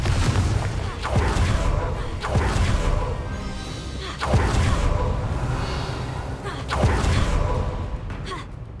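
Confringo explosive spells from the Hogwarts Legacy video game detonate in repeated heavy booms, roughly every two to three seconds, each a loud burst fading into a rumbling wash over dense game ambience.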